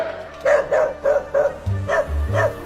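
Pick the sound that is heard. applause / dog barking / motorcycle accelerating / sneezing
dog barking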